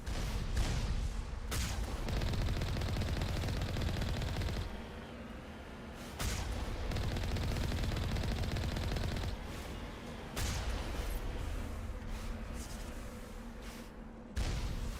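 Automated turrets in the video game Mass Effect Legendary Edition fire in long sustained volleys, a steady rattle of shots broken by short pauses, moderately loud with no speech.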